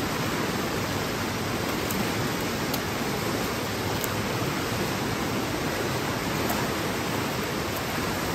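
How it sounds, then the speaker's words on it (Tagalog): Water rushing in a forest stream while foraging for mushrooms and berries, a loud, dense, unbroken wash that fills the whole stretch with no talk. "Masarap po ng pagaspas ng tubig"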